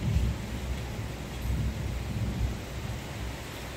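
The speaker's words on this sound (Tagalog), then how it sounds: "Lakas ng ulan." Steady, dense rain pours continuously with a low rumbling undertone, loud and close throughout, with no voices.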